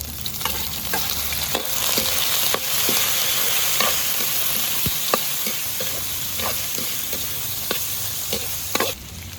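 Beef sautéing with garlic and onion in a pan for ginisang sayote, a loud, steady sizzle close by with occasional scrapes and clinks from stirring, no talking.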